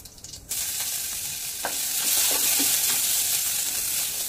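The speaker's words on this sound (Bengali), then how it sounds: "এর মধ্যে দিয়ে দেবো আমি রসুন কুচি" Chopped garlic hits hot olive pomace oil with toasted cumin seeds, bursting into a loud, steady sizzle after a brief quiet start, with a few spoon scrapes and stirring clicks over the frying.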